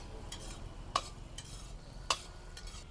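Chopped garlic cloves being stirred in oil in a pan, with two sharp spoon scrapes standing out over a soft, steady sizzle.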